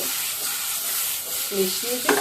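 Food being stirred in a frying pan over steady sizzling, with a few scraping strokes of the utensil near the end, close and moderately loud.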